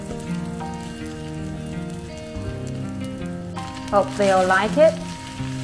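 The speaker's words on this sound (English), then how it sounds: "I fry some rice with my quail eggs" Rice frying with quail eggs in a pan gives a soft, steady sizzle under tonal background music, and a voice speaks briefly near the end.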